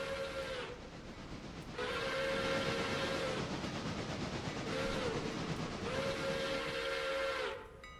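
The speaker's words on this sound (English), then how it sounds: "I used the fucking train's whistle" A steam train's whistle blows twice in long steady tones, each a few seconds long, over a constant loud rushing hiss of steam and rail noise, with no talking.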